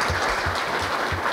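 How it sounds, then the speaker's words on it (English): Brief burst of applause from an audience for a wine tasting panel, a dense, continuous patter of clapping with a few low thumps underneath and no voices. "I want to give a round of applause, first of all, to this panel"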